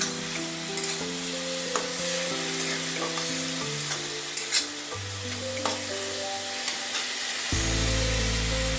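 Green chili and tomato sizzle in a pan of goat liver curry (mete chochori) while being stirred, a steady close frying hiss that runs throughout with a tonal backdrop.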